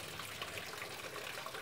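Water pours steadily from a PET bottle watering can, a continuous splashing gush that stays even in level throughout, with no voices.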